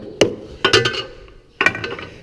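A hammer taps on a piece of farm shop equipment at a workbench, three sharp metallic strikes, the second a quick ringing double hit, each clanging close and loud before fading.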